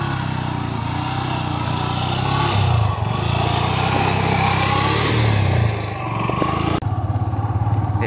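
A motorcycle carrying riders along a muddy forest track near Maithon runs with a steady, close mid-pitched engine drone that dips briefly and shifts in tone near the end, with no talk over it.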